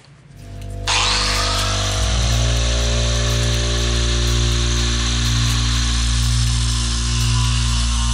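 A power tool trimming the radiator outlet pipe for a 1968 BMW 2002 starts up and holds a loud, steady whine with a deep hum beneath it. It is close and continuous after a brief spin-up.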